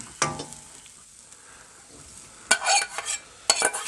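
Capsicums and spring onions stir-fry in a wok with a soft background sizzle, broken by a few sharp scraping and clattering bursts as the food is tossed and stirred.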